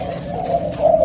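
A pet dove coos up close, two soft low throaty calls in about a second, with no talk over them.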